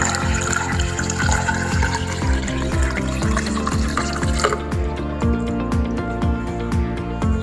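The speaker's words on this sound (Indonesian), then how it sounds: "Kemudian saya tuang ke tempat alat mekanik yang kami buat." Boiled water sample poured into a homemade mechanical measuring device, a steady continuous splash and trickle that runs throughout, close and fairly loud, with no talking.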